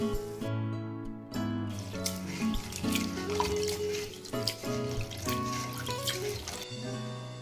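Rice is washed in water in a kitchen, with running water splashing and dripping against a vessel, clinking and sloshing in uneven bursts over a steady tap flow, close and without talk.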